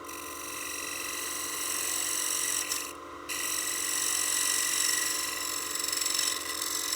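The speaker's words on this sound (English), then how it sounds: "Using my skew laid flat like a negative rake scraper." A skew chisel laid flat scrapes a spinning wooden coin box on a lathe, a continuous close rasping hiss over the lathe's steady hum, with a brief break partway through.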